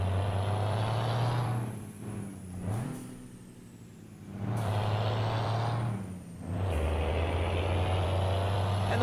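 A simulated truck in Euro Truck Simulator 2 pulls away from Sorocaba with a missed gear shift, its deep engine droning loudly, dropping off twice as the revs fall between gears, then surging back under power.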